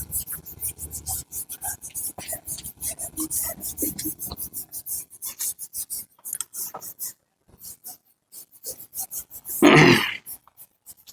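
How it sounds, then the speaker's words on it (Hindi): An eraser rubs quickly back and forth across paper to remove a geometry construction drawing for a circles maths lesson. The close, rhythmic scrubbing strokes run steadily, pause, return more sparsely, then end in one louder scrape. "अब इसको हम मिटा दे रहे हैं बच्चों"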